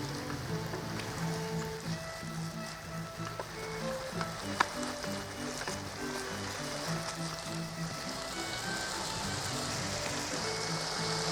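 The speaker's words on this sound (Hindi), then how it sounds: "चलिए इसको अच्छे से फ्राई करें आप। इसको मैं भून रही हूँ।" Potatoes and fenugreek leaves with red chilli fry in a pan, giving a continuous soft crackling sizzle that stays steady and slightly rain-like, with a few scattered clicks.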